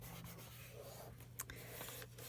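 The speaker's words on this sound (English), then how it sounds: "This glue really likes to be rubbed." Steady rubbing of glued illustrated paper pressed onto a handmade meander book, a soft continuous friction with a few faint taps, close and alone with no talking.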